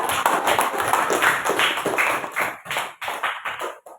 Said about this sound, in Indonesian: kita beri tepuk tangan untuk teman-teman yang